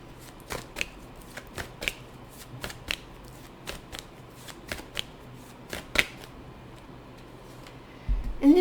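Tarot cards shuffled in short, crisp riffles and taps at a roughly regular pace, close and clear, with a louder clatter near the end and no speech.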